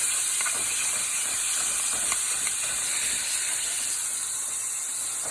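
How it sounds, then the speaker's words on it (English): Beef sautéing in a hot pan gives off a steady, loud hiss and sizzle that runs unbroken throughout, with no voices over it. "let's start the saute on this beef"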